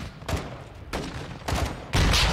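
Gunfire in the video game Call of Duty: Modern Warfare comes as four short, loud bursts of rapid shots separated by brief pauses, with no talk.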